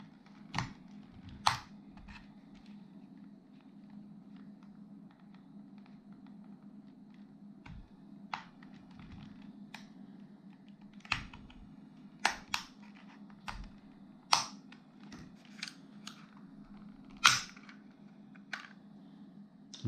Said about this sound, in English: Sounds like it's going to snap, but everything's still intact there.